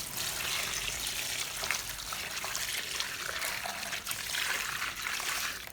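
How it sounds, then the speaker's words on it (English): Water is poured into a basin of vegetables and baking soda, a steady, close, continuous splashing rush lasting several seconds with no voices. "Then pour water to cover the vegetables."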